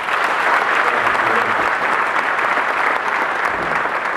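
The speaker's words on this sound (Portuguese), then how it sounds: "Palmas para vocês também." At a church congress, an audience gives teachers and directors loud, sustained applause. The clapping is dense and even throughout, with a murmur of the crowd beneath it.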